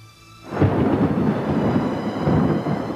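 A thunderstorm breaks with a sudden loud rumbling roll of thunder that swells in and sustains, deep and close, with a rain-like hiss beneath.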